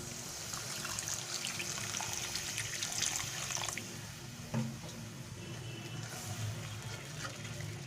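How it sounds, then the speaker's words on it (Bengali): Water poured into a pan of spiced prawns being cooked for a coconut prawn dish, a steady wet splashing and trickle that runs for several seconds and then eases, with a brief splash midway. "এবারে আমি এর মধ্যে পরিমাণ মতো জল দিয়ে দেবো"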